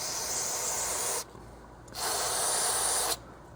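Two hissing bursts of aerosol brake cleaner sprayed onto the drum brakes of a 2011 Toyota Yaris, each lasting over a second with a short pause between, close and steady.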